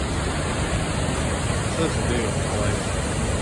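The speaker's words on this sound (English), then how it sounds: "I don't know if it's like the biggest waterfall around, but it's definitely cool" Steady, broad roar of Cumberland Falls, a large waterfall in Kentucky, rushing continuously without a break, with a voice talking briefly over the constant wash of water.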